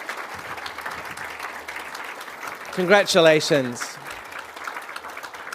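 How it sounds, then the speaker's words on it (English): Audience applause for award nominees at the 2023 Tasmania Australian of the Year Awards, a steady clatter of clapping that runs throughout, with a brief spoken congratulation rising over it near the middle. "let's give them all a huge round of applause"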